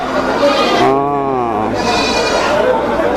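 Goats bleat loudly at a busy wholesale goat market in Bangladesh, with one long wavering bleat in the middle and further bleats around it, under steady crowd noise and people talking.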